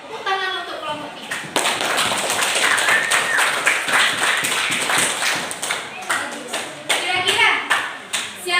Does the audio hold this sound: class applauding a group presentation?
yes